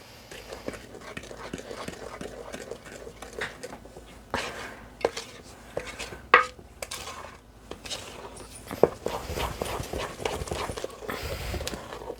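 Flour and milk being mixed into blueberry muffin batter in a bowl, with repeated knocking and scraping of a utensil against the bowl, close and moderately loud, and a few sharper clinks along the way.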